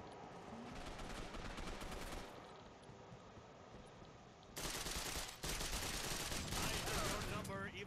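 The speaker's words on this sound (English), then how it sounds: "Ow, I'm getting shot" Rapid gunfire in the superhero shooter game Gotham City Impostors, sounding as dense automatic bursts. They drop briefly, then return louder and harsher with sharp cracks, with game voices mixed in.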